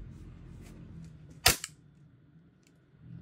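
A single sharp crack from an Umarex VFC G18 airsoft pistol test fire, with a softer follow-up click just after, heard close and loud against a quiet low room hum.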